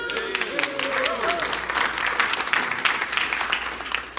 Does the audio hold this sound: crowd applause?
yes